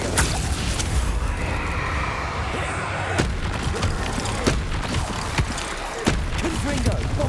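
Explosive spell blasts thump and boom during combat in Hogwarts Legacy, several sharp impacts spread irregularly beneath a player loudly shouting spell names throughout.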